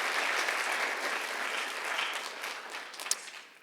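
A classroom audience at a writers' expo gives a student speaker a steady wash of applause that tapers off toward the end.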